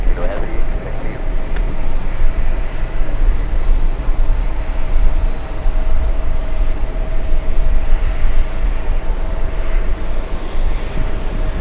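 A Swiss airliner taking off, its jet engines a loud, continuous rumbling roar with a faint steady whine on top, while voices talk over it.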